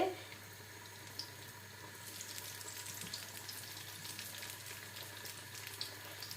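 Two soya meat vadas fry in hot oil with a soft, even sizzle and faint bubbling throughout, fairly quiet and steady, with no voices over it.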